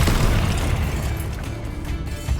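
A Confringo fire spell in Hogwarts Legacy erupts as a loud, deep rumbling boom that fills the whole couple of seconds with dense blast noise.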